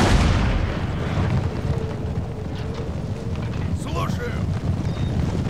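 Cannon artillery on a Napoleon Total War battlefield rumbles as dense, continuous low booms and battle din, with a voice talking over part of it.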